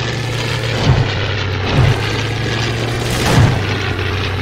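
Propeller airplane engine in a video game, a loud steady drone with a low hum and periodic swelling pulses, heard alone and close.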